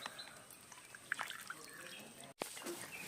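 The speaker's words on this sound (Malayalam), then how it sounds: "ഇനി നമുക്ക് ഇതിൻ്റെ അകത്ത് കുറച്ച് വെള്ളം ഒഴിക്കണം." Water is poured into a fermented coconut cake mixture being prepared as a plant fertilizer solution, giving quiet dripping and trickling splashes with a short pause partway through.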